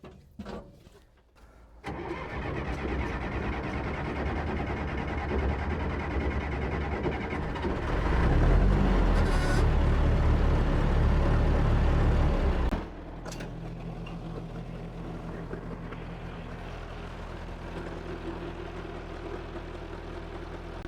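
A John Deere backhoe diesel engine, just fitted with a new injection pump, cranks briefly and then catches, running loud and rough before settling to a steadier idle, heard nearby with no one talking.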